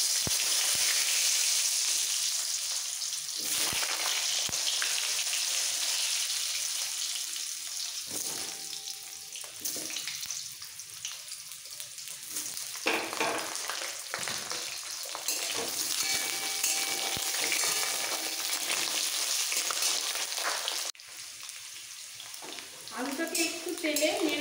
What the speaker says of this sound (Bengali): আলুটাকে একটু তেলে নেড়ে নিতে হবে।